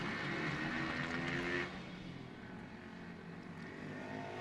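Motocross bikes, one of them a Kawasaki, race past as a loud, distant engine roar that drops in level partway through and keeps droning steadily.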